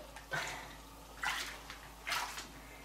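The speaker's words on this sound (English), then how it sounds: "Now that it's in the white tub, the stains are really showing up" A heavily stained bee suit sloshes in a white tub of water with OxyClean, three soft splashing swishes at intervals, close and quiet.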